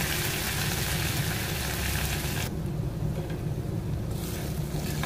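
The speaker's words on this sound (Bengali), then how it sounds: "আদা রসুন পেঁয়াজ খুব ভালোভাবে ভাজা হয়ে গেছে" Grated ginger, garlic and onion frying in oil in a pan for a Bengali curry, giving a steady, moderate sizzle that briefly softens partway through and then picks up again.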